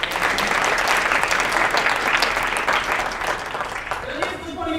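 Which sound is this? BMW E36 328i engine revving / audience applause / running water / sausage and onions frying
audience applause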